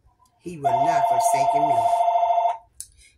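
A telephone rings loudly in a single sustained electronic trill lasting about two seconds, cutting in over a voice that is speaking as it starts.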